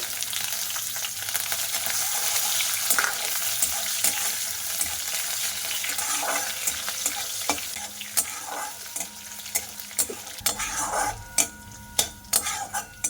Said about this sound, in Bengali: তো দেখো মশলাটা ভাজা ভাজা হয়ে গেছে